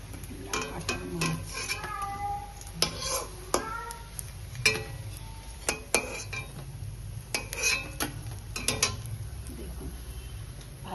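Fried taro leaf fritters being lifted one by one out of a frying pan, heard as repeated light metallic clinks and scrapes of a utensil against the pan over a faint background.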